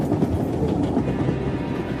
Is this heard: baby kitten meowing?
no